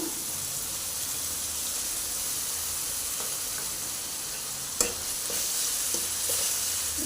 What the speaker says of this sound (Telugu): కొద్దిగా పచ్చివాసన పోయేంత వరకు ఇలా ఫ్రై చేసుకోవాలండి టమాటా పేస్ట్ని ఫ్రై అవుతుంది కదండి